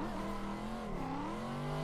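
A Mazda Miata engine in a racing simulator game howls steadily at high revs, a loud continuous drone whose pitch dips briefly and then climbs again, with no talking over it.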